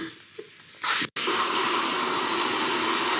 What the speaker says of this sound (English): I'm spraying deodorant.